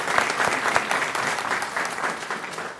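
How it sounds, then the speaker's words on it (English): Audience applause for a Baptist church pastor fills a city council chamber, steady dense clapping throughout with no talk over it. "Let's give the pastor in Galatia Baptist Church a round of applause."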